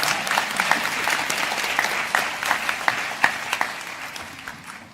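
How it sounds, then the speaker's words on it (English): A commencement ceremony audience claps steadily, a dense, sustained wash of applause with scattered louder individual claps, holding level throughout before easing slightly at the end. "Now you can clap."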